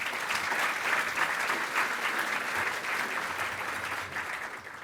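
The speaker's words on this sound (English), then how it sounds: "Let's give them another round of applause." Steady, full round of audience applause at a mayor's state of the city address, sustained for about five seconds and easing slightly toward the end.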